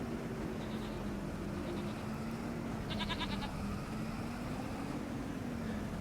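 Sheep in the Farming Simulator video game, a few short faint bleats over a steady engine hum and background hiss, one clearer bleat near the middle.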